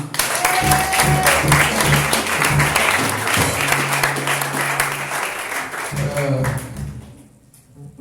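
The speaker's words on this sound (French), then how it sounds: "Est-ce que quelqu'un peut acclamer pour Jésus?" A church congregation at a Sunday worship service cheers and claps for Jesus, sustained loud applause mixed with shouts and whoops, fading toward the end with a sustained hum underneath.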